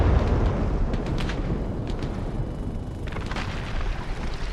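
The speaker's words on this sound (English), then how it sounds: "Mortars! Run!" Mortar shell explosions from the military game Arma Reforger, a heavy rumbling boom rolling on with dense low roar and scattered crackling debris, loud and close.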